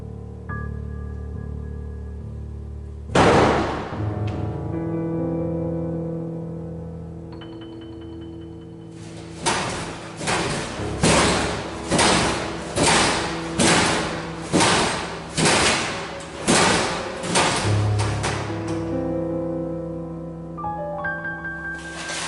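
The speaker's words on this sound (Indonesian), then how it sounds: "terbuka dan tertutup berulang kali diiringi suara dentuman kencang" Metal locker doors in a horror scene swing open and shut, with one heavy bang early, then a fast run of about a dozen loud, evenly spaced clanging slams over a low droning music bed.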